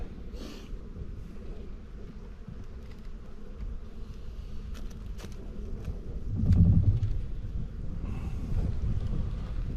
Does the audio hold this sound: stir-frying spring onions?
no